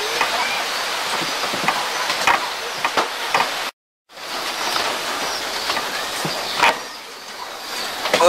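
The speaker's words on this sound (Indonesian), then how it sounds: "Di luar hujan." Steady rain falling outdoors, a dense continuous wash of patter with scattered heavier drops, briefly cut to silence midway before resuming, with no voices.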